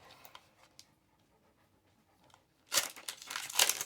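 A dog pants close by while trading card packs are being opened. After a quiet stretch, the last second brings rapid, loud, breathy bursts.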